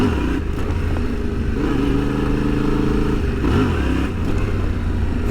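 A motorcycle revs hard for a clutch-up wheelie on a road, its engine droning loud and close with rising and falling pitch as the throttle opens and the clutch is dumped.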